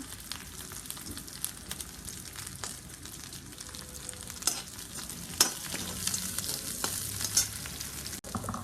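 Onions and dried red chillies sauté in a pan for a tamarind-free apple mor kuzhambu, a close sizzle broken by repeated scraping stirs that grow louder toward the end, with a sharp clink near the finish.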